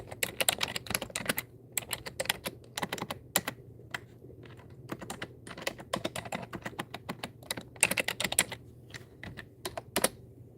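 Rapid typing on a computer keyboard, with irregular bursts of crisp key clicks and short pauses between them, close and alone with no talking.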